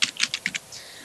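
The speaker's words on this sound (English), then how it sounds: "type out egalitarian for those of you less spelling inclined" Rapid bursts of keystrokes on a computer keyboard, several quick clusters of clicks close up and fairly loud, trailing off into quiet after about half a second.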